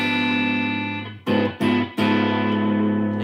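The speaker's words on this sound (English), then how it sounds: "A diminished chord would sound like this." Electric guitar with effects and distortion, first sustaining a chord, then restriking a diminished chord three times in quick succession and letting the last one ring, close and alone without talk.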